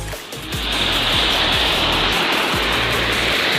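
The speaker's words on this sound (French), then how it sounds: "Donc désolé s'il y a la cascade hein," A waterfall on a river at a carp fishing spot gives a steady, loud, close rushing roar of falling water that holds unbroken from start to finish, with no voices.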